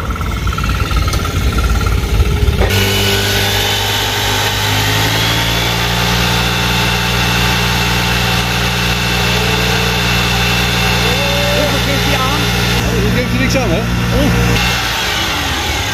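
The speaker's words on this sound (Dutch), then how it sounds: "Met mijn scooter." A small moped-style scooter engine, on a roadside at a police check in Nijmegen, idles and runs steadily up close, a continuous buzzing drone with slight revving, while people talk over it.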